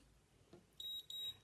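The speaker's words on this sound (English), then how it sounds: "That beep beep means that the imprint has been received by the eMark." A COLOP e-mark electronic stamp gives two short, high-pitched beeps in quick succession after receiving a test imprint, clear against a quiet room.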